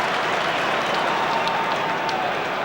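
Stadium crowd at a Rugby World Cup semi-final between Australia and New Zealand roars in a steady, dense wall of cheering and applause, loud and sustained throughout with no break.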